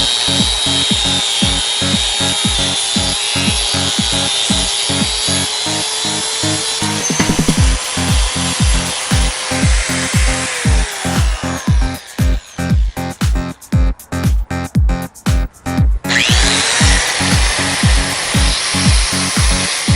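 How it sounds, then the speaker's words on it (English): A power saw cuts steadily through the metal shifter pin of a 1968 BMW 2002, a loud rapid rhythmic rasp that runs throughout, shifting pitch and pausing briefly near the middle before resuming, with no voices. "but for now I'm just gonna cut this pin out."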